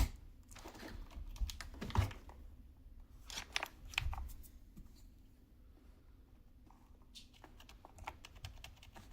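A budget mechanical keyboard is taken apart nearby: plastic keycaps pop and click in irregular clusters as they are pulled off to swap in 5-pin switches, with quieter stretches between the bursts of clatter.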